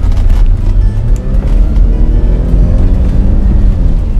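A BMW E46 318i with the N42 engine revs under hard acceleration, a loud, close, deep rumbling roar that climbs in pitch, with wind and road noise throughout.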